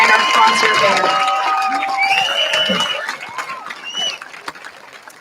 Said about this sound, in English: Can we get a resounding round of applause for all of our musicians here, both our concert choir and our concert band.